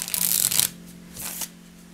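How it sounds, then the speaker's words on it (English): A Universal Tarot mini card deck is shuffled in two short bursts of crisp, fluttering riffle, the first longer and louder, then a quiet pause. "Let me try to shuffle it for you before I leave."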